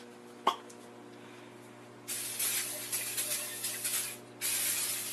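All-purpose Pam cooking spray hisses from an aerosol can in two sustained bursts, the first broken into several pulses and the second steady, close and fairly loud, after a single sharp click.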